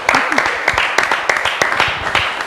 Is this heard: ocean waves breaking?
no